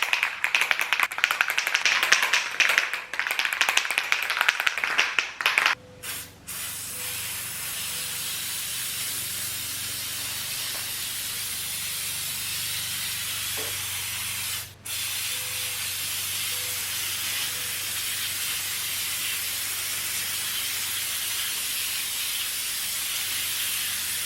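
Oil is sprayed onto new Yamaha TW200 motorcycle air filters in loud, close hissing bursts for about five seconds, after which only a quiet room tone and a faint tap remain.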